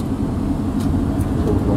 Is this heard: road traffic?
yes